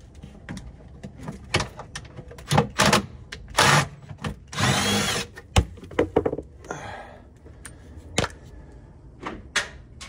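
A power tool removes a nut from the mud guard of a Sprinter van. It sounds in short, sharp bursts with one longer whir, separated by clanks and handling noises nearby.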